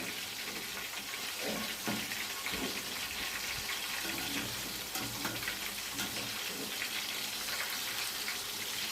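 Ridge gourd bajji fritters deep-frying in hot oil, a dense, continuous bubbling sizzle with faint crackles that holds steady from start to finish.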